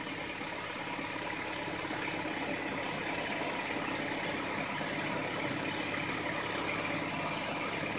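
A car engine idling with an exhaust leak: a steady, even rumble with a fine rapid puffing texture, held at constant loudness throughout, with no talking.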